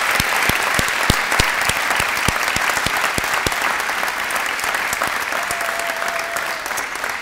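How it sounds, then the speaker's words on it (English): A large audience at an employee recognition celebration in Peoria gives a sustained round of applause, steady and dense throughout, with a few sharp nearby claps standing out early and no talking over it. "how about you lead us all in one more huge round of applause for these fabulous employees."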